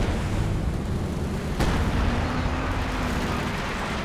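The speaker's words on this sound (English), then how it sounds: "Pulling in some base artillery here as well." Base artillery in Company of Heroes 2 rumbles as a steady, heavy wash of distant explosions, with one sharper blast standing out partway through.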